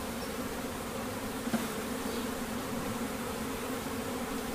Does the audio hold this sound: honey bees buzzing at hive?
yes